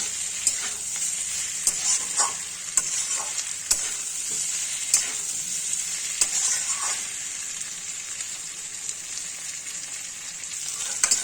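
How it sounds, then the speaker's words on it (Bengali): Cauliflower florets stir-fried in a pan for a vegetarian potato and cauliflower curry, giving a steady, close, hissing sizzle with repeated sharp clicks and scrapes of the spatula throughout, and no talking. "দেখুন আমার ফুলকপি কষানো হয়ে গেছে।"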